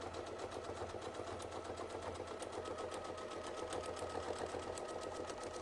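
A sewing machine stitches a quilted Celtic triskele design in two layers of thread, running as a steady close whir with a fast, even needle patter throughout and no talking.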